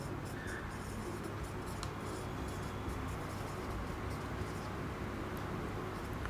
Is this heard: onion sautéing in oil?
no